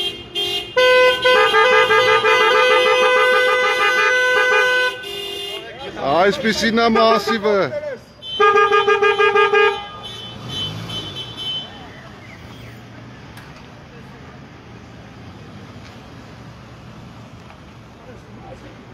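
Drivers on Moldovakan Street lean on their car horns in support of a street protest, with long sustained blasts for several seconds and another burst a little later, then the street settles into quieter traffic hum with a voice speaking.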